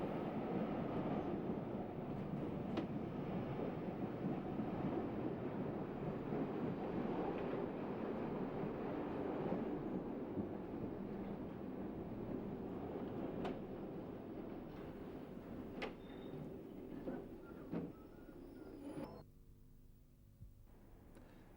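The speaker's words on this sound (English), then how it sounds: "See what I mean about the low rolling resistance of the steel wheel on the steel rail?" A train rolls on steel wheels over steel rail with a soft, continuous rumble, faint clicks and knocks rising now and then, before the sound fades near the end into a quieter stop.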